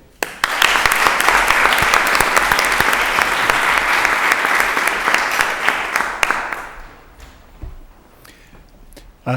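Dense, loud applause from the audience at a Lowell School Committee meeting, tied to Lowell High School's 175th anniversary, clatters steadily for about six seconds, then thins into scattered claps and quiet.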